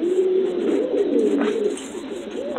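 Pigeons in a Cuban pigeon loft cooing steadily up close, with continuous rolling coos and faint chirps and rustling throughout.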